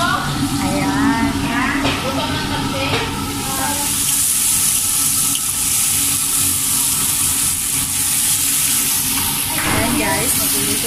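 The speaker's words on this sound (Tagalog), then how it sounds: "magtutusta ako ng bawang" Garlic toasting in a hot pan gives a steady close sizzle and hiss with occasional stirring scrapes, running under talk in a busy home kitchen.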